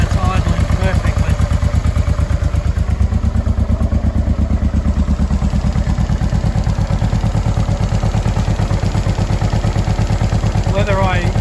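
Loud, close, even idle of a 2005 Honda NT650V V-twin motorcycle engine with freshly synchronised carburetors, a steady low rhythmic thump and light mechanical clatter running unbroken for the whole stretch.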